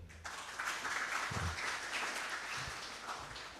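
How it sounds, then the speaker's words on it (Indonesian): An audience at a university scholarship event at Universitas Muhammadiyah Purwokerto breaks into steady applause for Pak Tatang, a sustained wash of many hands clapping, moderately distant and fairly even throughout. "kita berikan aplaus untuk beliau"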